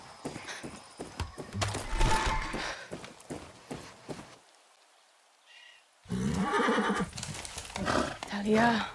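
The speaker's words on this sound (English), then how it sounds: "That's a horse and some paint." A horse whinnies in the video game Far Cry 6, its neigh ringing out near the end amid game sounds and hoofbeats, with characters talking over much of it.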